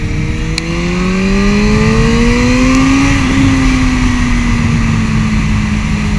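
A loud Suzuki GSR 600 motorcycle engine revs and climbs in pitch, then holds a steady drone, close by with a constant rumble underneath.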